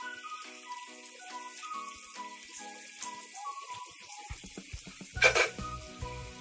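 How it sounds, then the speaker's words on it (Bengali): Spiced water poured into masala frying in a pan for a Chithol fish kalia, giving a sudden loud hiss and sizzle after a stretch of quieter cooking and faint whistling tones, with no talk. "মশলাটা ভাজা ভাজা হয়ে গেছে, এবার মশলা মাখা জলটা দিয়ে দিচ্ছি।"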